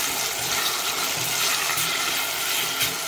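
A small splash of water is poured into a pan of onions and mushrooms being sautéed, giving a steady close-up sizzle and watery hiss throughout with no talking.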